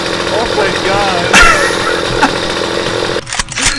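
A chainsaw drones loudly and continuously in the video game Starforge, while a voice speaks over it at times and a sharp burst cuts in near the end.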